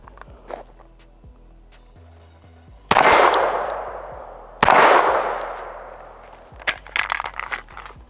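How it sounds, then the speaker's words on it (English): Metal parts of a pistol fitted with a Holosun holographic sight fall onto a hard surface at a shooting range, giving two sharp clangs with ringing decay, followed later by lighter clinks. "So our holosun popped off along with our screws."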